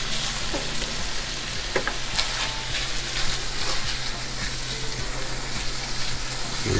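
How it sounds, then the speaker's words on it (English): Cooked meat mixed with enchilada sauce in a hot pan for a chimichanga casserole, a dense continuous sizzle with soft scraping stirs throughout, close and steady. "we're gonna throw about a third of a cup of our enchilada sauce in there. And just mix it up."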